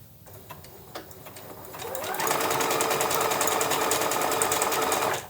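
A sewing machine stitches an appliqué onto a tote bag, starting with a few slow single stitches, then speeding into a fast, even, rattling run for about three seconds before stopping at the needle-down pivot point.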